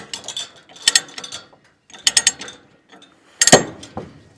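A ratchet binder clicks in short, sharp bursts while chaining a tractor down to a trailer, with several separate close ratcheting strokes spaced by brief pauses.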